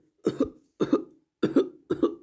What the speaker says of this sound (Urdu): کھانس رہا ہوتا ہے